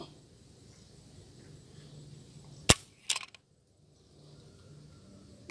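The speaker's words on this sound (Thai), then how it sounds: "เดี๋ยวผมจะทดสอบน้ำหนักไกก่อนนะครับ" A trigger pull weight test on a Ruger GP100 .357 Magnum revolver produces a single sharp metallic snap of the hammer falling, followed moments later by a short rattling clatter, against a quiet room.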